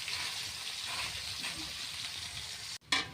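Plenty of chopped onions frying in a generous amount of oil, a dense continuous sizzle heard close and alone, briefly cut off near the end before hissing back louder.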